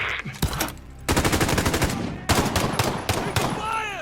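Rapid bursts of video game automatic gunfire pelt the player, with loud, closely spaced volleys broken by short pauses and a few ricochet-like whines near the end.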